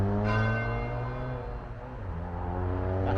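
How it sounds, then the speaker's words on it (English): Church bells ringing steadily nearby in the Black Country, England, rich overlapping tones humming and sustaining throughout, loud and continuous with no voices. "You can hear the church bells a bit more closer."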